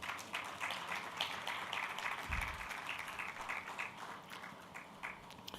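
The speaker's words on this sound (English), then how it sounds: "Please, with a round of applause, welcome back Teki Akwete." Audience applause at a data protection summit closing ceremony: steady, fairly quiet clapping from a crowd that goes on for several seconds.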